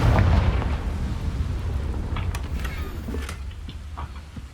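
A Confringo spell blasts in Hogwarts Legacy, a loud deep boom that opens the moment and rolls off into a rumbling decay with scattered crackles and debris pops.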